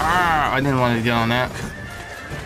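A horse in the video game Berserk Band of the Hawk lets out a loud, wavering whinny lasting over a second, closely followed by a person speaking over the game sound.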